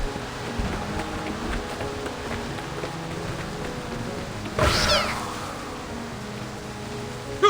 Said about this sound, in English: What are all these splinter cats doing here?